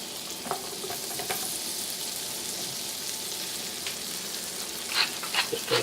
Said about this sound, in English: And then throw in the onion.